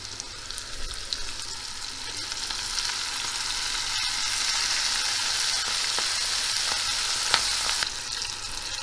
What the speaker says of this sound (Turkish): Yağın içerisine çok aşırı atmayalım soğanlarımızı.